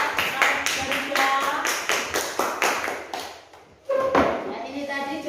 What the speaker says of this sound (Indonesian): Tepuk tangan dulu untuk kelompok Garuda.